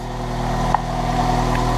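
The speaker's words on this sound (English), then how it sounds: "Just got the parts car running." A parts car engine idles steadily after being started on fresh gas, a low continuous rumble with a slight stumble and a brief click partway through.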